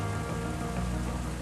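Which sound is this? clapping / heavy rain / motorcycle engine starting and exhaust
heavy rain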